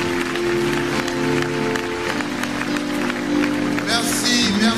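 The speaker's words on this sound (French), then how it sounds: "je vous demande de les applaudir alors qu'ils reprennent leur place, s'il vous plaît." At a ceremony honouring religious leaders, an audience claps continuously under a steady musical tone while someone speaks over the applause.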